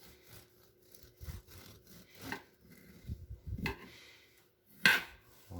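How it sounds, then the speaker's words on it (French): A serrated knife saws through the edge of a homemade Neapolitan cake in short, uneven rasping strokes, close and fairly soft, with brief pauses between cuts. "ensuite on pare les côtés avec un couteau-scie"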